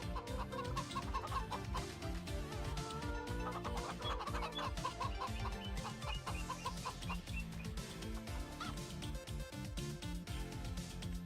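Chickens clucking in the Farming Simulator 25 video game, a steady stream of hen clucks over continuous game music that runs throughout.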